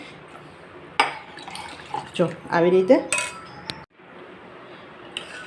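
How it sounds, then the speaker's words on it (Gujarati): Water poured into a pot of soaked rice while cooking a traditional Jamnagar wedding dish, a sloshing, splashing pour with clinks of utensils, close and fairly loud, with a person speaking briefly. "જો સરસ આપણે પાણી નાખી દીધું છે."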